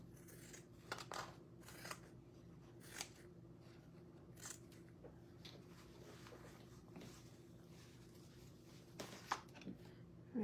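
Scissors snip through artificial Christmas tree material being cut up to make a St. Patrick's Day gnome, a series of short, crisp cuts spaced irregularly over a steady low hum at close range.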